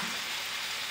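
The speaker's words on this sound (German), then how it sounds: "von allen Seiten wird das angebraten" Venison seared on all sides in a hot pan, a steady close frying sizzle with a bright hiss throughout and no talking.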